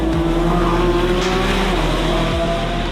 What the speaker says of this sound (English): Also all the gear changes, amazing, with a double clutch transmission, 8-speed.